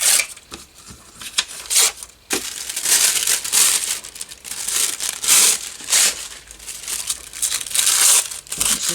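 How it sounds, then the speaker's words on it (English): Various pieces of paper are torn up close by, giving bursts of ripping and crinkling that come and go in irregular waves over several seconds, with brief pauses between tears. "I'm just tearing up various pieces of paper."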